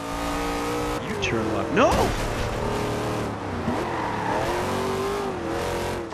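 Engine of a damaged Charger in Forza Horizon 2, revving at half throttle with rising and falling pitch sweeps and a brief tire squeal, close and steady, under a navigation voice and an exclaiming player.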